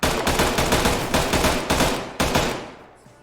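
Automatic gunfire in the Arma 3 military game, a rapid, loud burst of repeated shots that keeps going for about two seconds, breaks off, resumes, then trails away into fading echo.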